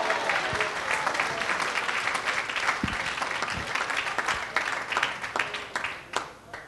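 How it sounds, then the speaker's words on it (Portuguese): A church congregation applauds steadily at a women's congress, a dense wash of clapping that holds throughout and tapers slightly at the end. "dê uma salva de palmas aqui nessa noite."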